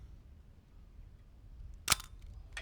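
Pentax ME Super camera fitted with a 50mm f2 Pentax M lens, its shutter firing at 1/2000 in a single sharp, close mechanical click after a quiet pause.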